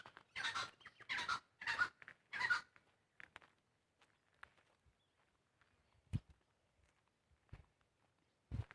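Farm fowl on an autumn farm in Australia, a short run of four loud calls close by in the opening seconds, followed by quiet ambience with scattered soft clicks and thumps like footsteps.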